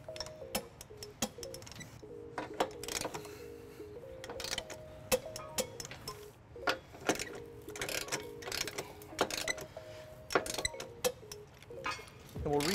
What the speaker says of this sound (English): Now we're going to tighten and torque all of our bolts to the manufacturer's specification.